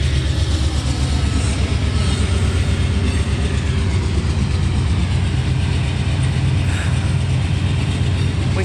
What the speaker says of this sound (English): The fucking train going by.